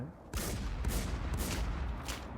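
Dense, continuous gunfire in a video game, a sustained loud barrage of overlapping shots that begins abruptly and runs without pause.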